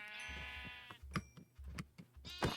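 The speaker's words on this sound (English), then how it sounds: "Sheep." Sheep in a farming video game bleat four times in quick succession, each cry a short wavering call, fairly close and clear with no talk over them.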